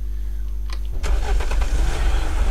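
A car engine cranks and starts in the video game Unturned, a brief starter whirr giving way to a loud, steady running rumble, with no talk over it.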